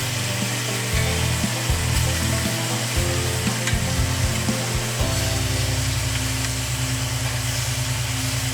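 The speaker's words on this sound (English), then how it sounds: "I cook them with the gills in. Get a nice sear." Green iguana meat sears in a hot pan, a steady loud sizzle and frying hiss running throughout with a few scraping clicks and stirring noises, no voices.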